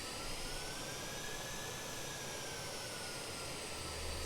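Jet engines of a BAe 146-100 after taxiing: a steady, distant high-pitched whine with a broad rushing roar, its pitch easing slightly downward throughout.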